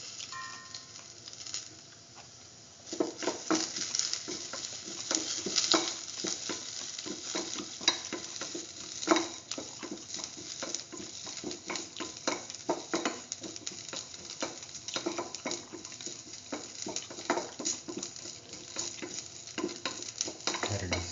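Soy chunk instant noodles are stirred and tossed in a pan, giving a steady scraping and sizzling patter with frequent clacks of the utensil, close and fairly loud throughout.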